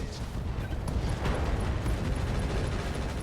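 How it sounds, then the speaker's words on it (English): Ammo explosion in the mech combat game RogueTech, a short dense burst of rumbling blast noise with mechanical rattle, sustained and loud for a few seconds with no talking. "I say as we get an ammo explosion."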